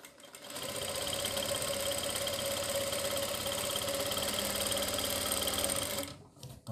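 A sewing machine stitches the folded hem of churidar pajama fabric in one continuous, loud, even run lasting several seconds, starting up and stopping abruptly, with no talking.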